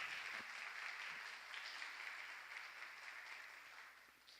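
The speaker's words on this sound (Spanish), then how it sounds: "Para ellos quiero pedirles un aplauso y un reconocimiento" An audience at a Catholic communication conference applauds, a faint, continuous patter of many hands that slowly fades away.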